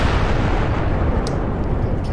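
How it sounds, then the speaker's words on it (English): A nuclear explosion in Fallout New Vegas, a loud continuous roaring rumble that fills the clip without letting up, dense and heavy throughout. "It's called a nuclear explosion."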